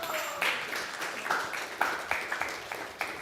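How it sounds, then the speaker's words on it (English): An audience applauds at a spiritual talk on the holy name, steady clapping throughout with a few louder individual claps standing out, fairly close. "A big round of applause to you."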